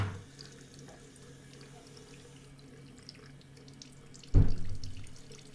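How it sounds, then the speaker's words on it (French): Tap water runs in a thick stream into a sink while paint brushes are rinsed, a soft steady trickle under quiet talk, with a sudden louder splash near the end. "Donc là, il y a un peu un gros filet d'eau."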